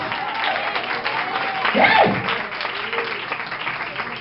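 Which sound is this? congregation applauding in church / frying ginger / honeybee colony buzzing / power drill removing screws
congregation applauding in church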